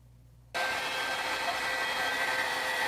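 A hair dryer switches on abruptly and blows a loud, steady rushing hiss at close range onto a resin-coated egg, holding an even drone with a faint whine over it.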